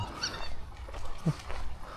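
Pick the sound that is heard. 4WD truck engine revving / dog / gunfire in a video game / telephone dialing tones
dog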